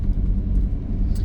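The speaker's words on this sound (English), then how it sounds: "It sounds like the Jake brakes are on as it's moving." Low, steady rumble of a 2-stroke Detroit diesel truck engine with Jake brakes, heard briefly and fairly close, alone with no voices.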